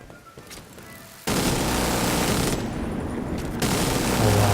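Turret gunfire at a control point in The Division 2, a sustained loud stream of rapid shots that starts abruptly after a quiet moment and continues almost without a break, with faint sharper cracks mixed in.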